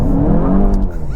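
Base 2022 VW Golf GTI Mk8 on all-season tires accelerating hard in sport mode, a steady, loud engine drone heard from inside the cabin with no break for the whole moment.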